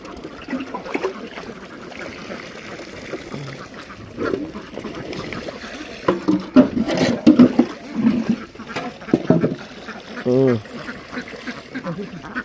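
Farmed ducks quack in bursts while feeding, with rough clustered calls growing busier toward the end, mixed with nearby talking and handling noise.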